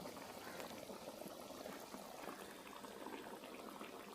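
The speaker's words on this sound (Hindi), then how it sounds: "ये देखें हमारा मसाले में बॉयल आ गया" Spiced masala water boiling in a pot, a soft continuous bubbling and hissing simmer, faint and steady throughout with no voices.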